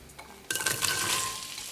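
Onions dropped into hot oil in a pan for butternut squash soup burst into a loud, close, steady sizzle that continues without any talk.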